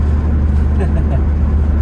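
A Honda Brio car driving, heard as a steady low engine and road rumble that holds at an even level throughout the short stretch.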